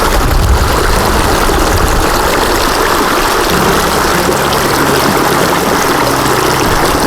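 Steady rush of flowing water washing through gold prospecting material, continuous and fairly loud, with a low rumble underneath throughout.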